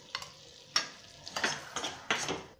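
Pearl millet flour roasting in ghee over a medium flame for bajra halwa, with several distinct scraping stirs over a low sizzle, close and fairly loud, no talk.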